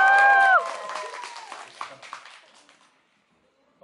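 Audience applause at the opening of Jung Yong Hwa's fan signing event in Gangnam: a bright cheer opens a burst of clapping that thins out and fades into near silence.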